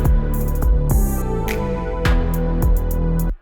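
Crash cymbal sample from Splice layered in a modern metalcore mix, bright crash bursts striking together with snare hits over dense tonal music, several hits spread across about three seconds.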